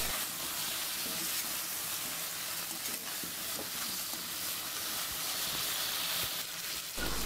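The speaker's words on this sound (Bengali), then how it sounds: "নাড়াচাড়া করে এরপর দিয়ে দিচ্ছি কয়েকটা আলুর টুকরা। আবারও কিছুক্ষণ কষিয়ে নেব।" Beef curry with potato pieces braising in a pot with little oil, a soft steady sizzle and bubbling hiss under occasional scraping stir strokes, fairly faint and continuous throughout.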